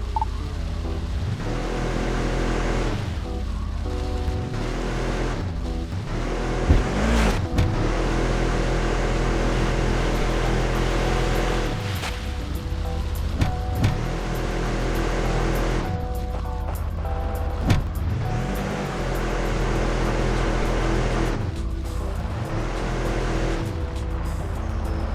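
An off-road four-wheel-drive vehicle grinds along a track in the video game Overpass 2. The engine drones loud and steady, and its pitch repeatedly sweeps up and down as the vehicle works over uneven ground, with occasional thumps and no talking.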